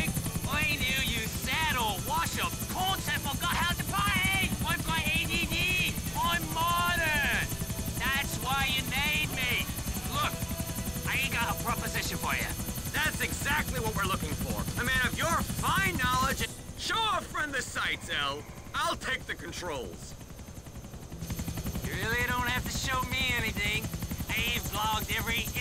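A helicopter in the video game GTA IV drones loudly and continuously with its rotor chop, briefly dipping in volume, while people talk and shout over it throughout.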